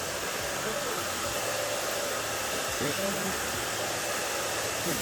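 A hair dryer runs steadily and loudly throughout while hair is blow-dried with a round brush for a pixie cut, with faint low voices underneath.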